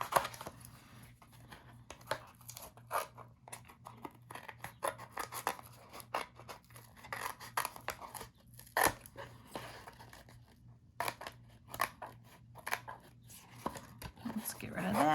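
Scissors snip through paper in quick, irregular cuts, close and crisp, spread across the whole stretch with small pauses between bursts of snipping and occasional crinkling.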